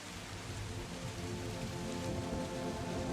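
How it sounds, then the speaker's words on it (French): Steady rain falls on surfaces outdoors as ambience for a Tomb Raider tabletop role-play, a soft, even, continuous patter at low level with no speech over it. "Tu es à l'extérieur, il pleut toujours."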